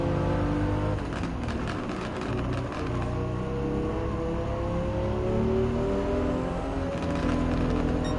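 A race car in Gran Turismo 7 accelerates under throttle on a Japanese FR challenge event, its engine note rising steadily and loudly with layered harmonic whine throughout.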